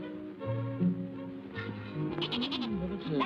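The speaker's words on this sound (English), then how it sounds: "Burley's a very warm goat, isn't she?" A goat bleats in a 1937 film, with a wavering, quavering cry near the end. Orchestral music and indistinct voices run underneath.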